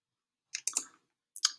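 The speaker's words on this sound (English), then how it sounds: "So you're going to click the link." A computer mouse clicks a link, giving a few sharp close clicks in two quick bursts separated by silence.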